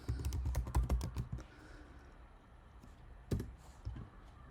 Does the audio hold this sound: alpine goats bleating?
no